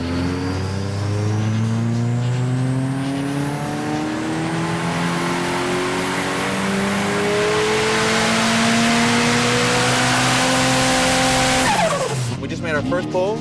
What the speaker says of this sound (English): Putting the car on the dyno right now. Getting ready to wake her up.